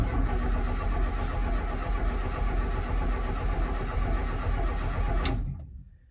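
A Ford Escort RS Turbo engine cranks over continuously and loudly for about five seconds with a steady churning rumble, then cuts off abruptly into silence.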